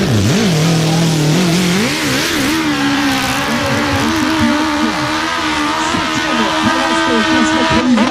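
A motorcycle charging up a badly broken hill climb course at speed, its loud engine revving hard and wavering between throttle bursts throughout, close and continuous.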